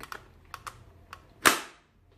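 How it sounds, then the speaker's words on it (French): Fake charging lever on a Cyma MP5K airsoft gun being worked, a few light plastic clicks followed by a sharper snapping clack, close and alone. "Ensuite nous avons un faux levier d'armement."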